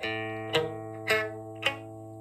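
Three badly fretted, beginner-strummed electric guitar chords sound dull and buzzy, each attack choked with muted, dead strings, ringing on in between.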